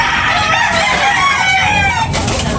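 Roosters crow and hens cluck in a busy chicken market in Tabunok, Talisay, a dense, steady din of overlapping birds close by with no gaps.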